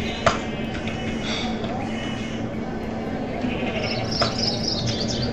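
Sheep in the Minecraft video game bleat a few times over a steady bed of game background sound and faint talk, the calls short and moderately close.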